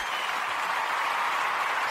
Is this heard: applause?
yes